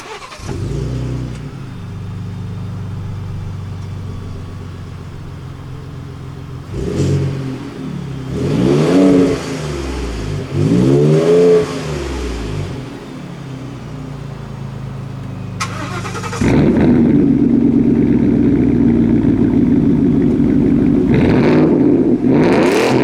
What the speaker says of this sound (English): we are of course going to have a rev battle